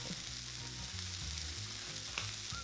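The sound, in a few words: seasoned meat patties sizzling in a pan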